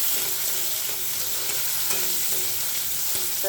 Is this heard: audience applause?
no